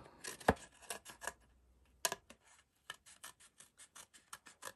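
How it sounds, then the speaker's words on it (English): Scissors snip through paper while hexagon shapes are cut out for stencil work, giving a run of close, crisp rasping cuts in an irregular rhythm with brief pauses between strokes and no talking. "So just cut those hexagons out."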